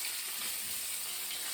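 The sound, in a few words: onions frying with salmon steaks in a pan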